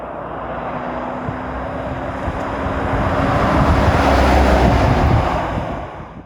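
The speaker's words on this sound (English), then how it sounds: "We definitely hear more wind. It's a windy day, so we hear the wind." Strong wind buffets a Toyota Tacoma on bigger tires as it drives on a windy day, a loud, steady broadband roar that swells toward the middle and fades slightly at the end, with no talking.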